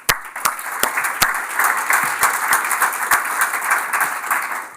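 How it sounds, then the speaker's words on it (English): Loud audience applause, many hands clapping together in a sustained wash with a few sharp, close claps standing out. "I think we should applaud them both"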